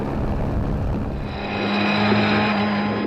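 A BMW M3 historic rally car drives at the Rally Antibes Côte d'Azur Historic, a steady, loud engine drone with a rising tone partway through and no talking.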